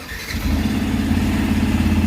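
A Yamaha FZS-V3 motorcycle engine cranks on the self-start button and catches, settling straight into a loud, steady idle close by.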